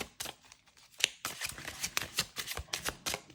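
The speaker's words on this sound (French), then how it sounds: "on va tirer une petite carte avec le Divinange de Dorine Gilbert" Tarot cards from a Dark Mansion Tarot deck shuffled by hand for a reading, a run of crisp riffling and slapping bursts at close range, with no talking.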